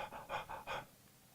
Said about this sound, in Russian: Человек открывает широко рот и начинает активно дышать.